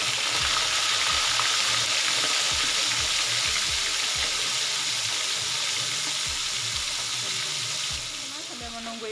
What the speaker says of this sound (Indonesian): Sambil menunggu ikannya selesai digoreng